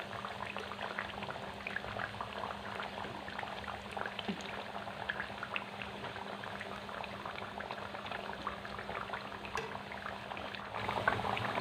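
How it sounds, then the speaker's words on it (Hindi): Potato pinwheels frying in oil, a continuous dense bubbling crackle at low volume with small pops scattered through, steady from start to finish. "और इनको मज़ीद 5 मिनट फ्राई कर लेंगे।"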